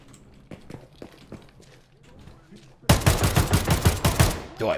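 Rapid gunfire in a Tarkov-like shooter game, a dense burst of loud sharp shots after a quieter stretch of footsteps and movement, with a voice talking over the action.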